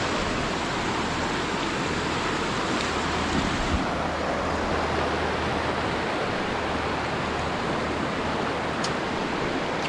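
Constant rushing wash of flowing river water, dense and unbroken throughout, close and fairly loud with no voices.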